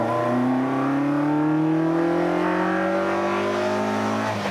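Italian car engine, Fiat or Ferrari, accelerating hard, a loud, smooth rising drone climbing steadily in pitch for several seconds before easing off at the end.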